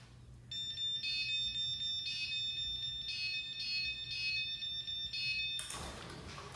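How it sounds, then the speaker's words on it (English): A Genie Aladdin Connect garage door opener beeps in a steady repeating pattern of loud electronic tones for several seconds, with a sudden burst of broadband noise at the end. "It takes a few seconds just to connect, but it's gonna start beeping and flashing."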